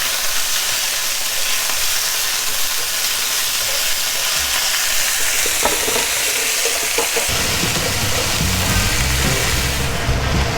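Chicken pieces fry in a pan for chicken noodle soup with a steady, loud, close sizzle, and a brief stir or flip partway through.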